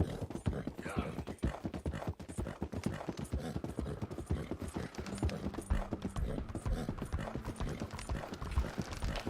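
Rapid, rhythmic video game horse hoofbeats clip-clop continuously at a steady trot, close and clear, with a faint tonal hum underneath.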